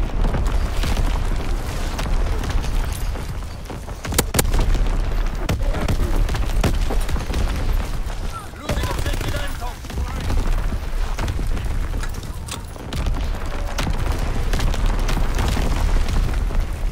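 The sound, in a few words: artillery battery shelling explosions in video game Call of Duty WWII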